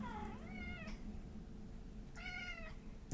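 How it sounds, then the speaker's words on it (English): A cat meows twice, two drawn-out, wavering cries separated by a pause, clear and fairly close over a low background hum. "A cat."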